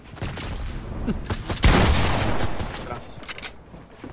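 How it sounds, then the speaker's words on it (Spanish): Gunfire in Fortnite, several sharp shots in quick bursts with one louder blast near the middle, set among game noise while a voice speaks briefly. "¿Me está disparando?"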